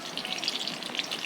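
Green chilies fry in hot oil in a pan for potato and pointed gourd soybean curry, a steady close crackling sizzle with no talk.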